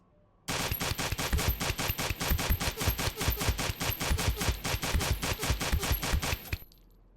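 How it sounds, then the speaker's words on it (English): A WT-550 gun in the Space Station 14 video game fires a long, steady automatic burst into a Juggernaut suit, about thirty rapid shots in an even rhythm, loud and alone, ending abruptly. "here's a WT-550, and if you remember, the bullets do 16 damage a shot. If you mag dump a Juggernaut suit"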